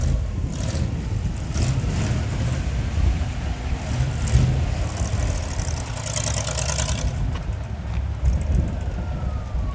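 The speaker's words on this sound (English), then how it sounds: "Oh, there's the rat rod." A rat rod car drives past at an outdoor rod run car show, its engine rumbling steadily and loudly nearby amid continuous crowd and traffic noise.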